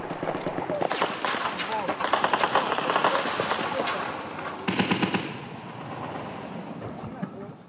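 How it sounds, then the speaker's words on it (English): Heavy gunfire erupts as rebel reinforcements advance along a road during the battle for Tripoli, with bursts of automatic fire and scattered shots ringing out both near and farther away, and voices heard among the shooting. "Reinforcements arrive on the road under heavy fire."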